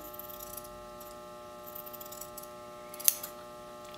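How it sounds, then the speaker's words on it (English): Scissors snip through the fabric seam allowance of a French seam, trimming it narrow; a single sharp cut stands out near the end over a quiet, steady room hum, with no voices. "And then I'm going to trim my seam allowance to 1/8 of an inch."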